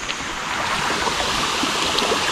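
Water in a river in Tanjung Malim rushes steadily as a dense, continuous broadband hiss, loud and unbroken, with no voices over it.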